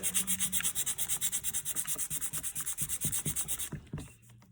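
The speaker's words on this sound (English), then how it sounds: "it doesn't take a lot of effort to sand it down, so it's nice and level" Steady back-and-forth rubbing of sandpaper on the wood rim of a 1968 Pontiac GTO sport steering wheel, about twenty quick even strokes up close, alone, stopping near the end.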